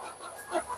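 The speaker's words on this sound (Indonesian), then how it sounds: "ini ayam tinggal 3 ekor ya guys" Chickens on a small farm where only three birds remain after a virus outbreak, clucking softly in short bursts, moderately close with faint background noise and no talk.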